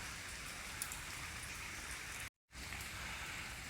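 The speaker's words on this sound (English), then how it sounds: "the way that rain's coming down, I'm not walking across there" Rain pours down steadily outdoors near the Asian Games stadium, a faint, even wash of drops on surfaces that drops out for a moment before resuming, with no voices.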